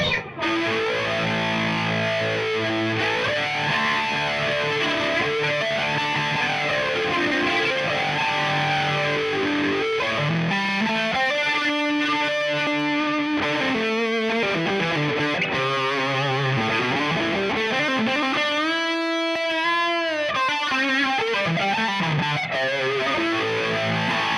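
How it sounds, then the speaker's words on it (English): A heavily distorted electric guitar through an Orange Crush Pro 120 head plays a continuous, sustained riff with a swirling, effected tone, loud and steady throughout with no talking. "Let's say we want some distortion on it."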